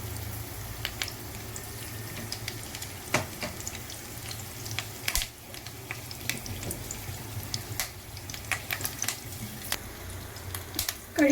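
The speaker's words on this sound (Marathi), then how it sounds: "कढीपत्ता छान फ्राय झाला।" Curry leaves frying in ghee in a pan for ghee roast chicken, a steady soft crackling sizzle with faint clinks and scrapes throughout, close and moderately loud.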